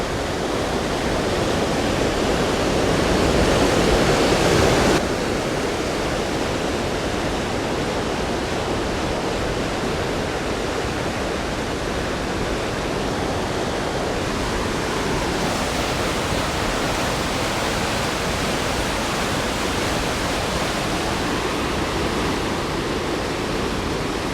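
Brown floodwater from the mountains rushes loudly during a typhoon, a dense, unbroken roar of churning water with no voices over it.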